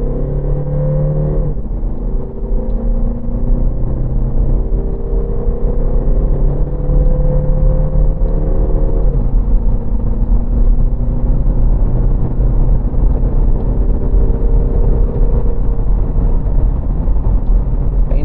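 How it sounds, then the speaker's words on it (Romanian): Mercedes-Benz GLA 200 CDI diesel with a 7G-DCT gearbox and 4Matic accelerating at full throttle from third gear, the engine note rising steadily through gear shifts as a loud, continuous interior drone. "Suntem în treapta a treia la 4100 rotații pe minut și voi accelera la podea"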